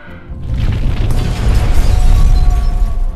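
A loud, rumbling explosion from the film Fight Club, with a deep boom and crackling debris, sustained and building slightly over a few seconds.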